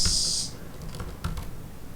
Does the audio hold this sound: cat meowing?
no